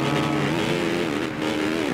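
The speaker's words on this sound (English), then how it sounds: "The bike sounds I wish were a little better, but you know, they work" Steady, loud motocross bike engine drone from MXGP in first-person view, a constant buzzing whine holding near one pitch with a slight dip midway, no talk.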